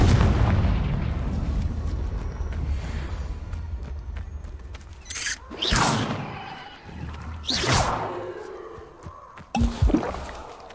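Confringo blasting spells explode in the game Hogwarts Legacy: a long, low rumbling blast fades out, then several sharper booming impacts hit in quick succession, fairly loud and with no talk over them.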